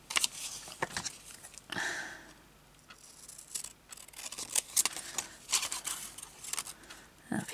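Scissors snipping through paper to trim a page corner embellishment for a journal, a series of short crisp cuts and rustles close by, with quiet bits of talk in between.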